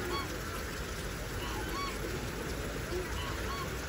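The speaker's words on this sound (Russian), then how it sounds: "Гуси, здесь даже есть гуси." Geese honk a few times in the distance, faint calls over a constant wash of outdoor noise.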